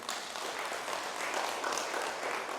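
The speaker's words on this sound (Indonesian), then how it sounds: "Yuk, tepuk tangan untuk Tuhan." A church congregation at a Sunday worship service claps together, a steady dense wash of applause held at an even level, moderately distant and with no voices over it.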